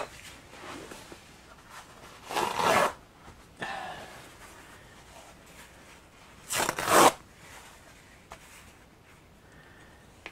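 A paper towel torn by hand at a craft desk, two quick rough ripping bursts several seconds apart, close and fairly loud over a quiet background.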